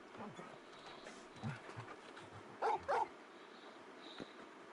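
Big dog barking in the Final Fantasy XVI video game, two short loud barks close together at mid-clip, with softer yips and game ambience around them.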